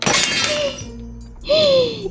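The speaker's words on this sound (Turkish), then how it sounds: "Bardak kırıldı değil mi?" A drinking glass breaks in a toy-play scene, a bright shattering crash followed by a second burst of clinking fragments, with tonal voice-like sounds gliding underneath.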